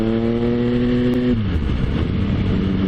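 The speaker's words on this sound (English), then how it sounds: "by that fairly brisk acceleration, we can just create this little gap behind us now" Motorcycle on an open road accelerating briskly, its engine note holding steady harmonics then sliding down in pitch as it shifts, followed by a loud, rough, close engine roar under wind noise.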